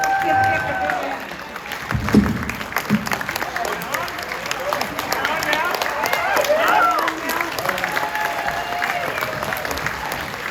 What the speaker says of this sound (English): Give Dick a big hand.